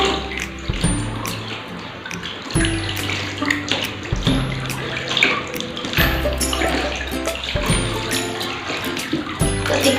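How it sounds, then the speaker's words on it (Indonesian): A newborn baby being lowered into a tub of bath water, with close splashing and sloshing throughout and some brief clanks and knocks. "Lanjut kita letakkan di bak airnya."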